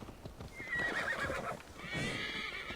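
In Assassin's Creed Valhalla, a horse whinnies loudly while hooves clop nearby, with a second shorter neigh following, all fairly close.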